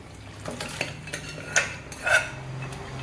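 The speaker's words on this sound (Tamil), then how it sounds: "இந்த மட்டனை வந்து இதில் மிக்ஸ் பண்ணி" A spoon scrapes and clinks against a metal pot while mutton is stirred into simmering gravy, with a few sharper knocks standing out among soft, steady stirring sounds.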